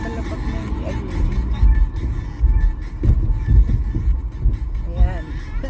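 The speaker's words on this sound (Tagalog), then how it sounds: "Kung naririnig nyo yung lagabog na yan guys, yan ang butas ng kalsada na lubak" Car on a city road thudding repeatedly over potholes, a series of low, heavy bumps and jolts over a constant rumbling engine and road noise from inside the vehicle.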